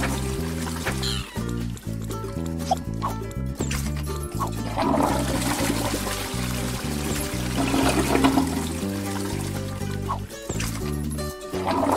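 A toilet flushes in the multiplayer video game Headsnatchers, a long gushing swirl of water heard under steady low game music, with no clear pauses.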